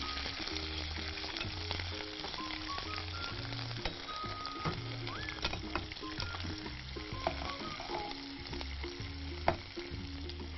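Onions sautéing in a hot pan on a cooking show, a steady close sizzle and crackle with occasional stirring scrapes, with no talk over it.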